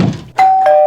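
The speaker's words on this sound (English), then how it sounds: "That sound fades into the ringing of a doorbell" A cartoon two-tone doorbell chime rings out clearly, a bright sustained tone followed by a second, slightly lower one, after a brief muffled rumble.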